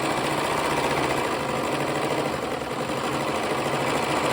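A serger stitches the outseam seam allowance of a pair of pants, one layer at a time, with a steady, continuous motor whir and rapid needle chatter held at close range for the whole stretch.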